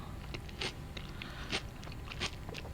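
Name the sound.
biting and chewing crunchy vegetables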